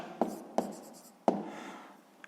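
A pen or pencil marks a sixth-grade maths answer on paper, three sharp taps and short scratches spaced through a quiet, close recording with no voices.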